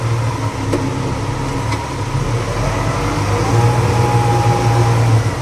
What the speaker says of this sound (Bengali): এই আমি রিভার্স করি